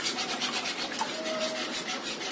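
A spoon stirs a dessert mixture in a pan over medium heat, a soft, rapid scraping and rubbing repeated steadily at close range.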